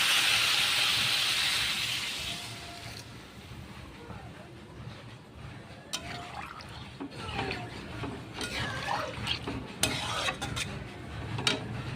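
Water boils with potatoes in a pan, a broad hiss and bubbling at first that settles down, followed by scattered utensil clinks and stirring scrapes close by.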